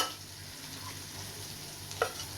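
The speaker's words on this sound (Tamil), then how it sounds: "இந்த மாதிரி பன்னீரை வந்து ரோஸ்ட் பண்ணும்போது அடிக்கணமான பாத்திரம் ஏதாவது எடுத்துக்கோங்க" Paneer roasts in a heavy pan with a steady soft sizzle throughout, near and fairly faint, and one brief clink of a utensil toward the end.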